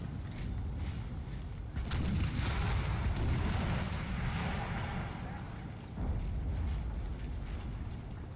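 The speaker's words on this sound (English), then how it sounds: "So got about 5 cannons firing on them." Heavy booming cannon fire in Napoleon: Total War, several deep blasts rolling over a dense battle din during the siege of Ticonderoga, with no clear speech.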